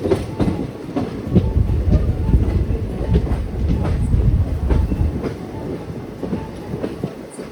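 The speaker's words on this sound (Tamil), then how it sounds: "திண்டுக்கல் ஜங்ஷன்லேருந்து நம்ம ட்ரெயின் டிபார்ச்சர் ஆச்சுங்க." The Mettupalayam-Thoothukudi Express, just departed Dindigul Junction, rumbles along the rails, heard from on board as a steady loud low rush with a continuous clickety-clack of wheels on track joints.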